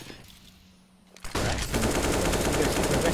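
Gunfire in a Counter-Strike esports match, a quiet lull broken by a sudden loud, sustained burst of rapid shots that continues to the end.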